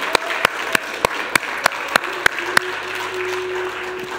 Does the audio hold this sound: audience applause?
yes